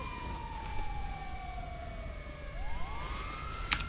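A wailing emergency-vehicle siren in a video game scene of a plane landing on a motorway, a falling tone that swoops back up, fairly faint over a low rumbling background with a sharp click at the end.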